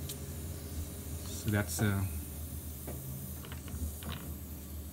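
Pressurised water hisses out of a disconnected water softener in short bursts over a steady mechanical background, and someone speaks briefly.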